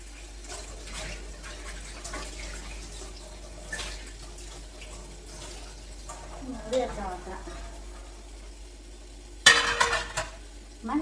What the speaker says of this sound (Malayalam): പാത്രങ്ങളൊക്കെ കഴുകി വെക്കട്ടെ